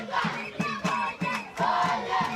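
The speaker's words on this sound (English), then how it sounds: "I like the cheering of the fans." Fans at an under-15 youth baseball qualifier between Kenya and South Sudan cheer and chant together in a rhythmic, pulsing beat, a lively crowd sound that carries throughout.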